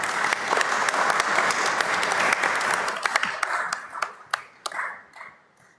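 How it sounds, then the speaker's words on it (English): An audience at a climate justice press conference applauds the speakers with a dense burst of clapping that thins into scattered individual claps before fading out. "A round of applause to our speakers"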